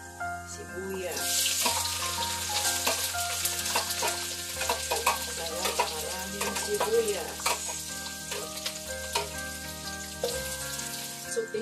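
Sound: onions frying in a pan

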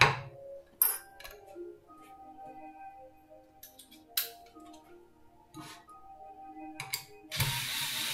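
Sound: driving a 4x40 screw into wood

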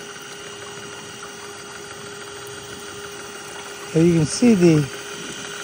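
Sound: 12-volt motor spinning stainless steel spindle in gold trap

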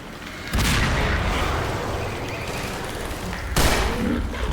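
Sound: bomb explosion in Half-Life 3 fanmade video game

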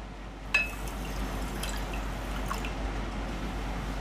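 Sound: pouring water into a pan

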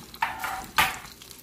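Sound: chicken sauteing in a pan

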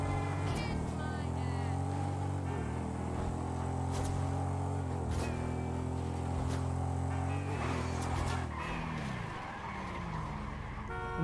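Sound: Ducati motorcycle riding fast in video game GTA 5

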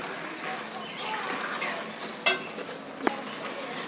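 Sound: stirring pui data stalk curry with ghee in a pan

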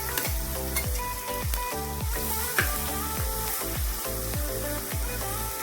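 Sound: crushed garlic frying in oil

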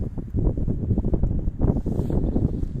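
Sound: icy wind

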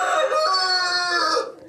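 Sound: Frizzle chicken clucking

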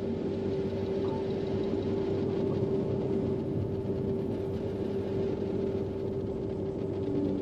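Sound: ship idling sound in video game EVE Online

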